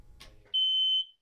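A newly installed home smoke detector gives one short, shrill, steady electronic beep lasting about half a second after brief handling noise, close and clear in a quiet room.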